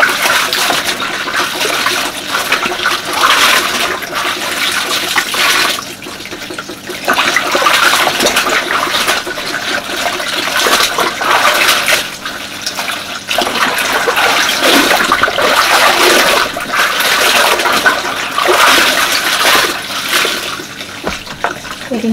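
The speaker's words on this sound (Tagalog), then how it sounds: "Maligam-gam pati yung tubig, guys." Warm water runs steadily from a tap during hand laundry in a UK home, a loud continuous splashing and gushing that carries through the whole stretch with a few brief dips, with no talk over it.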